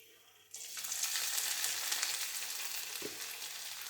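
Vadagam, a sun-dried South Indian fritter, dropped into hot oil: a sudden loud burst of bubbling sizzle that starts abruptly and keeps up as a dense, even crackle, with a brief thud partway through.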